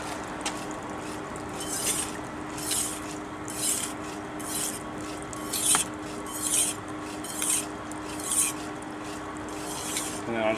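A knife blade drawn across a 1000 grit whetstone in repeated rasping strokes, about ten steady passes in an even rhythm, close and moderately loud.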